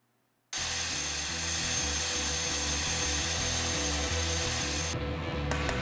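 A helicopter carrying a film crew over the greater Seoul area, its rotor chop pulsing steadily and loudly close up after a sudden start, then continuing alone for several seconds.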